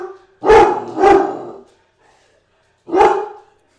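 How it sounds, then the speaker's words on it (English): A puppy barks three times, two sharp close barks in quick succession, then a pause and a third bark, loud and clear against near silence. "It's amazing to look at this dog that's half puppy, half dog."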